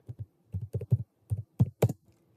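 About a dozen crisp keystrokes on a computer keyboard, tapped close up in short uneven bursts with brief pauses between them, with no voices.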